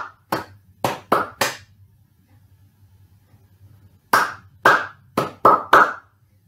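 A pair of hands claps a short rhythm of four crisp claps, then after a pause a second pattern of five quicker claps, close and clear over a low hum.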